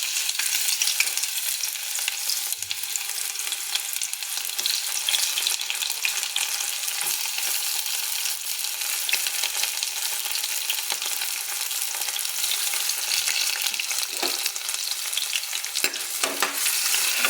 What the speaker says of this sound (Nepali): तेल तातिसकेपछि अब हामीले यसमा प्याजलाई फ्राई गर्ने.